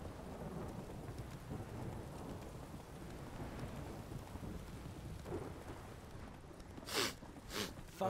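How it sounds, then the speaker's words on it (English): Heavy rain pours steadily in The Witcher 3, a dense hiss filling the scene while thunder rumbles beneath it and a couple of sharper cracks break through near the end. "this downpour's a bastard, it is."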